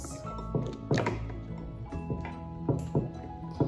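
A few dull plastic thunks and light clicks, close by, as a lid is set and pressed onto a microwave cooking container over a faint steady hum.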